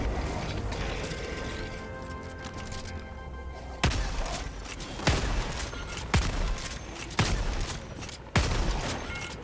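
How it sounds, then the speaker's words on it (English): Helldivers combat against an Illuminate outpost: a series of sharp, evenly spaced orbital strike impacts cracking loudly over a constant mechanical clatter and rattling gunfire. "Calling in an orbital strike"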